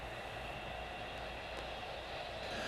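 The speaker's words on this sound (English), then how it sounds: "There are multi-levels of O-gauge trains running throughout." Multi-level O-gauge model trains run through a miniature layout, a steady, dense rumble and whir that fills the space and carries on without a break.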